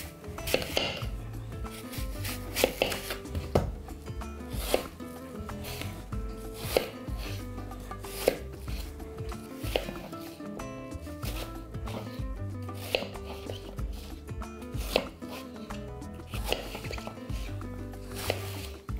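A knife chops ingredients on a board while lamb bozbash is being made, with steady, rapid, close strokes that continue throughout and no speech.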